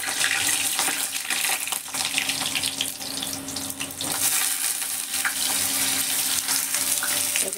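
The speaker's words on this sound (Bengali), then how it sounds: "এবার আমি বেগুনগুলো ছেড়ে দেব তেলে।" Eggplant slices frying in hot oil for a Bengali dish, giving a steady, bright hiss and crackle that carries on throughout at close range, with no voices.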